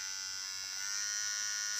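A Kemei 129 electric hair trimmer runs at high speed with a close, steady, high-pitched buzz that rises slightly in pitch partway through.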